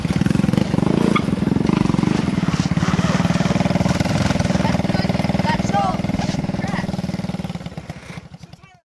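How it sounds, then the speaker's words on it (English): A 150cc shifter kart engine with electric start runs steadily at a loud, buzzy idle-like drone close by, holding for most of the stretch before fading out at the end. "It's even more stupid when you realize this engine is equipped with electric start."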